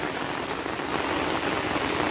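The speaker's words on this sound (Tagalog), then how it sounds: "Biglang bumuhos yung tubig ulan ngayon." Steady heavy rain roars nearby, a thick, unbroken wash of falling drops with no voices.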